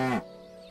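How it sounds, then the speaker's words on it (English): A single short cow moo, loud and close, fading quickly into a faint quiet background. "Cows give us milk."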